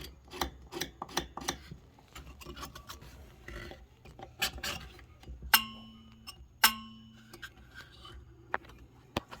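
A harmonium reed is shaved by hand to stop it buzzing. Short scraping strokes come in bursts, close and fairly quiet, with two bright metallic pings ringing out partway through.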